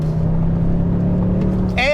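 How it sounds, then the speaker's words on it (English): A 2022 Toyota Tundra pickup engine growls in a steady, loud drone under acceleration, with a voice starting briefly right at the end. "There's a hint of turbo whistle when you floor it."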